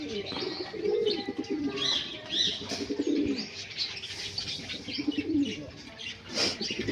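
Pigeons, including Telmark and silver and brown Lakkha breeds, coo in a loft with repeated soft, throaty warbles close by, mixed with light chirps and a brief flutter of wings.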